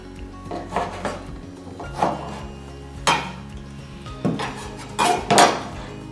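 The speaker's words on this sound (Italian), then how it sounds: "togliamo i nostri asparagi dall'acqua bollente e li tagliamo" Knife strokes cutting boiled Cantello asparagus on a cutting board, a series of soft thuds and scrapes with small clatters of kitchenware, irregular and close by, no talking.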